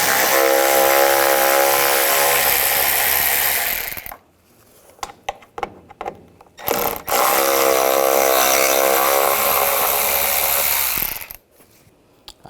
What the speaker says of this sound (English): Underneath here, use the T20 socket.